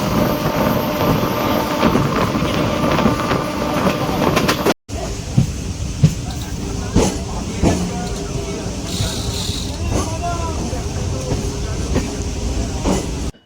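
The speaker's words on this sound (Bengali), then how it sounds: "তো দেখতে পাচ্ছেন ট্রেন চলে এসছে, এই ট্রেনে আমরা উঠবো, চলে যাব নামখানা।" A Namkhana local train from Sealdah arrives and runs, its loud continuous rumble and rail clatter close by, with voices talking beneath the noise.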